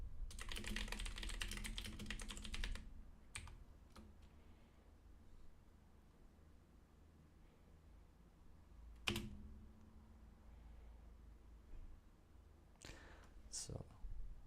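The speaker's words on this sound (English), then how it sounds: "Okay, I'm typing the question now." Rapid keystrokes clatter on a computer keyboard at close range, a dense burst of typing followed by scattered single clicks and taps, with a quiet room in between.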